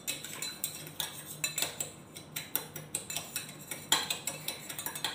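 A spoon clinks and scrapes against a glass in quick irregular strokes as lemon juice drink is stirred, sharp ticking taps repeating quietly close by.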